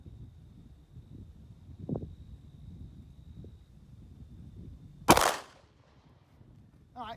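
A single sharp pistol shot cracks out loud and close at an outdoor shooting range, a small compact handgun, then a short echoing tail and quiet wind noise with faint background sounds.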